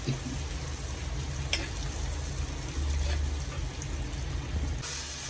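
Washed dried anchovies frying in a pan, a steady close hiss of sizzling oil running throughout, with a brief scrape and a louder burst at the end.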